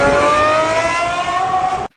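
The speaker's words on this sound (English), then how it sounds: "The sound of this engine at maximum RPM is something that can't be described in words." A McLaren Senna's Cosworth 6.5-liter V12 screaming near 11,100 RPM, a loud, sustained high-pitched wail with rising harmonics that cuts off abruptly at the end.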